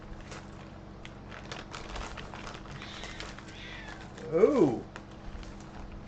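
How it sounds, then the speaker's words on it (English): A distressed domestic cat lets out one loud, wavering meow around the four-second mark, sounding close by over a steady low background hum and faint rustling, with a brief spoken exclamation nearby. "You guys hear that? Sound like my cat. One of my cats ain't happy."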